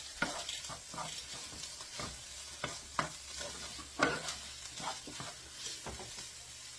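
Burrito filling ingredients stirred and mixed in a pan: quiet, irregular scrapes and taps of a utensil over a faint sizzle, close by and with no voices.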